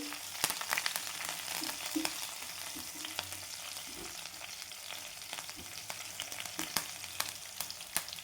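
Garlic, curry leaves and green chilies fry in hot oil, a steady crackling sizzle punctuated by scattered pops and light stirring knocks, heard up close without any speech.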